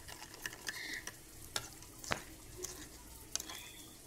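A spice paste of turmeric powder, salt and chili powder stirred with a little water in a bowl, giving light, scattered scraping and tapping clicks, close by and fairly quiet.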